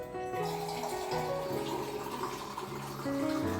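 Water being poured into a pot to make kaneri, a rice-flour drink: a steady, close splashing stream lasting a few seconds, no talk.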